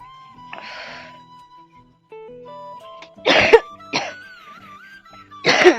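A person coughs persistently, with three harsh, close, loud bursts over faint tonal background sounds.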